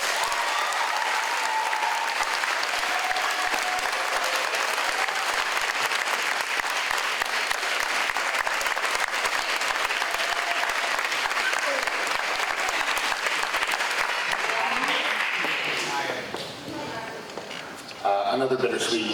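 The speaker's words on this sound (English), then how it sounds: "Please give a warm round of applause to Mrs." Ceremony audience gives sustained, loud applause for a retiring teaching assistant, a thick continuous clapping that thins out near the end as a voice briefly comes through.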